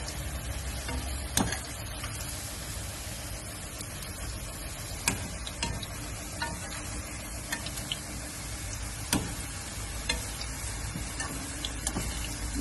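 Potato lachha strips frying in a pan, a continuous close sizzle broken by scattered sharp clicks and taps as the strips are turned.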